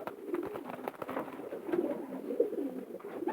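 A long-distance racing pigeon coos in a soft, repeated throaty rolling pattern, close by and steady with no talk.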